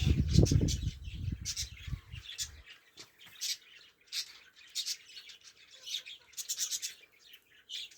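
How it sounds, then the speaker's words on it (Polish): Pet budgerigars chirp and squawk in repeated high, bright bursts at close range, following a brief low rumble at the start. "Papuszki ćwierkają."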